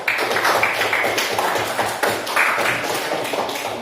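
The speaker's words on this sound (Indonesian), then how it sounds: "Nah, tepuk tangan dulu untuk kelompok 3." Classroom applause for a student group about to present, a dense, steady clatter of many hands clapping close by for several seconds, with no talk over it.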